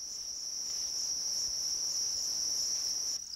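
Dense, steady chirping of crickets bred in large numbers at a cricket farm, a continuous high trill that holds evenly throughout and stops abruptly at the end, with no voices.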